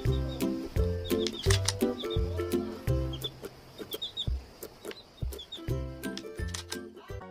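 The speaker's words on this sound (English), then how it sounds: "H for hen." A hen clucks in a steady run of short, rhythmic calls, close and fairly loud, with other farmyard birds faintly chirping behind.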